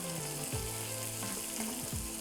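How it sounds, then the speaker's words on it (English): Cashew nuts and sliced onion sauté in a hot pan, a soft continuous sizzle and crackle with a few stirring scrapes, fairly quiet and close, no voices. "We'll saute the cashew nuts for 4 to 5 minutes."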